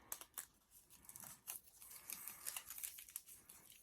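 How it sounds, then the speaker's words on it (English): Scissors snip through crepe paper while shaping pine cone petals, giving a run of quick, crisp cuts with papery crinkling between them, close and fairly quiet, with no talking. "And I'm going to cut these a little bit bigger."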